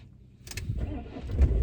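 A 2019 Citroen Jumper van's engine cranks and fires, starting from quiet and swelling into a loud, close idle rumble that briefly rises near the end.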